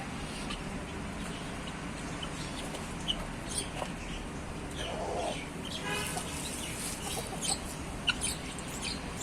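Turkish chickens on a native-chicken farm cluck softly and intermittently over a steady background hum, with occasional sharper calls from a nearby flock.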